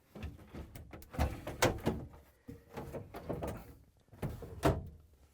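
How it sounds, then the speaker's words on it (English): Refrigerator drawer being slid onto shelf rails during installation, a series of plastic scrapes, knocks and thunks in uneven bursts, close and fairly soft, with no talking. "We need to slide these rails on the side of the drawer into the rails"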